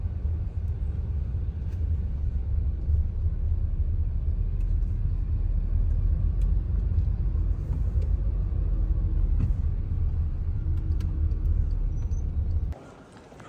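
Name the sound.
street traffic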